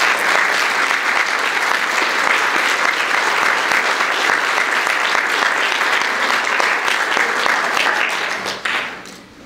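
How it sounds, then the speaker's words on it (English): Sustained applause from a breakfast audience for state legislators at a regional center event in Aptos, a dense, steady clapping wash lasting most of the clip before quickly fading out at the end. "Can we give them a round of applause?"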